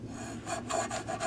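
A metal file scrapes a light socket base of a Christmas light strand, a few quick faint rasping strokes close by with nothing else heard.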